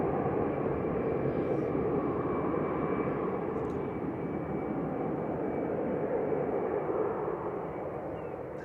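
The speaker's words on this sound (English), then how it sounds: "Eurowings 9345 to Dusseldorf, DAB ZL, A320 Classic." Eurowings Airbus A320 Classic jet at Manchester Airport, a moderately loud, steady engine roar with a thin whine riding above it, easing slightly toward the end, alone without speech.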